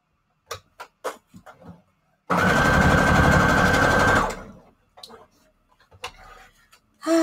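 A sewing machine stitching strips of scrap paper runs in one steady, loud burst of about two seconds, framed by soft handling rustles and taps before and after.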